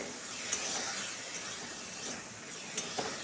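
Gourd peel is stir-fried with mustard and poppy-seed paste, giving a soft, steady sizzle with faint stirring scrapes and a few brief clinks, heard close and alone.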